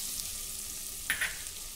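Garlic, onion and a small chili sautéing in oil for pumpkin soup, a soft steady sizzle with a couple of brief stirring scrapes near the end, fairly quiet and without talk.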